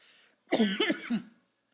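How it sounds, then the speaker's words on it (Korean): A single close, throaty cough burst, a couple of rough pulses in quick succession, then quiet. "기침이 계속 나와서."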